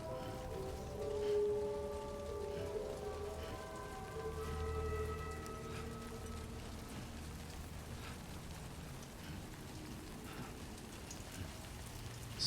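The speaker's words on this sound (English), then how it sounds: "Starting to rain." Steady rain falls in the video game Death Stranding 2, a continuous hiss of drops on surfaces with faint tonal game sounds layered beneath, alone and without talk.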